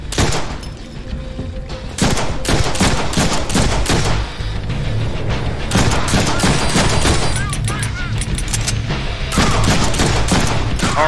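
Twin machine guns firing in the Deadpool video game, loud rapid bursts repeated in several long volleys, with a voice speaking briefly in between.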